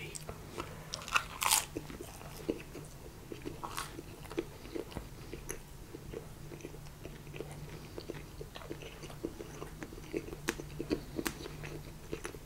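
Crisp bites and crunchy chewing of a Big Mac attack pizza sound close and intimate, repeating steadily beneath soft whispered talk.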